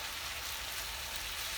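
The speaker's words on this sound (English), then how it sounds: "my minced beef. So this has been frying for a while." Minced beef that has been frying for a while in a pan gives a steady, close sizzle with a crackling texture throughout, with no voices.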